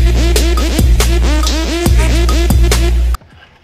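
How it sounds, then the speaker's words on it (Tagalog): A plastic box scrapes across a table in a string of squeaky, rubbing strokes, loud and close, before stopping suddenly. "yung mga pagkaskas ng plastic sa aking table"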